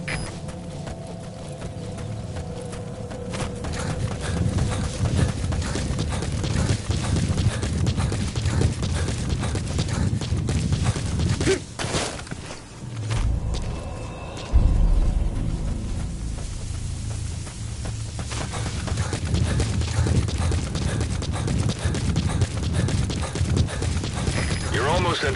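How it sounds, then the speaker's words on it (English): Hooves clip-clop steadily as a horse gallops across the wilderness in Metal Gear Solid 5: The Phantom Pain, with a dense, continuous rhythm broken briefly near the middle. "Use your horse."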